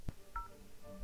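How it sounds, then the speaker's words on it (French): A telephone keypad gives a few short, clear dual-tone dialing beeps, close and fairly soft, after a brief low thump. "Le téléphone qui fait le bruit des touches"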